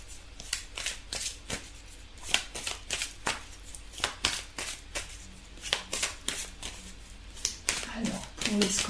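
Tarot cards being shuffled and drawn during a reading, giving a steady run of crisp papery riffles and flicks close by, with quiet talk faintly underneath.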